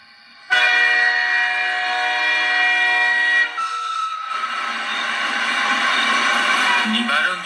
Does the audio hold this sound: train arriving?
yes